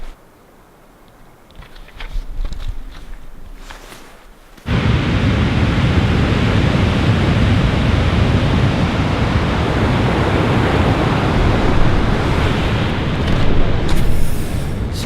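Ocean surf on the Olympic Peninsula coast sets in suddenly after a few seconds of quieter handling noise, then holds as a loud, broad, continuous wash of breaking waves, close by and with no voices.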